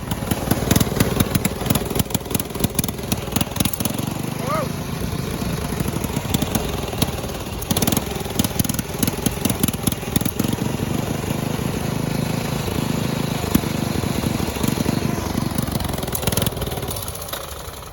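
Small, cheap lawnmower engine running continuously with a steady, rough, clattery idle and low throttle, close and loud, with a sputtering mechanical chatter throughout and no talk.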